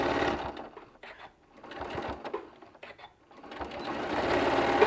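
A sewing machine stitches fabric for boxed corners in steady bursts of rapid, loud mechanical whirring, pausing briefly in between and ramping back up, with no talking.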